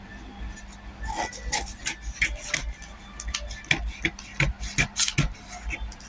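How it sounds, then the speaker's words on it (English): Scissors snip through cardboard while cutting a basic skirt pattern, a series of close, uneven crunching cuts with short pauses between them. "It's cardboard, so it might not be cutting perfectly."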